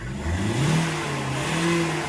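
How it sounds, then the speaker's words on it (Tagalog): A Hyundai Accent CRDI diesel engine, just fitted with four replacement injectors after a hard-starting problem, revs up from idle with a rising whine, then holds a steady, moderately loud hum with a second brief rise in pitch. "Try natin RPM kung malakas ba yung RPM natin."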